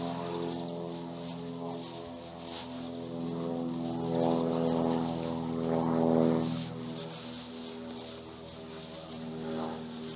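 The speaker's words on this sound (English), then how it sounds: "small plane passing overhead." A small propeller aeroplane passing overhead a rural country churchyard in Devon, a steady droning hum that swells and fades gently across the whole stretch, fairly distant, with no talking.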